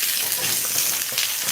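Garden peppers and tomatoes roasting for salsa roja in a hot pan, a loud, dense, continuous sizzle with no pauses or talk over it.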